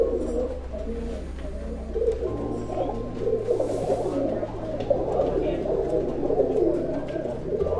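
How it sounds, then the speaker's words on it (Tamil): A pigeon at a fancier's loft in Coimbatore coos in low, repeated, throaty rolls close to the listener, over a steady low hum and faint background bird chatter. "இதுதான் தலைப்புறா."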